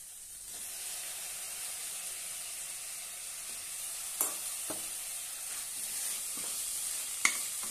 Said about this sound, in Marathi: आता यामध्ये वांगे घालूया।